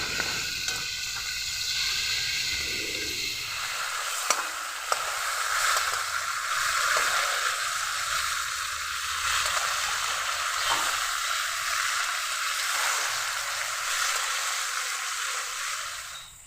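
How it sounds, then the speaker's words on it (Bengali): Rita fish frying in hot oil, a steady loud sizzle that continues throughout with a couple of brief clicks. "মাছ ভাজা হয়ে গেছে"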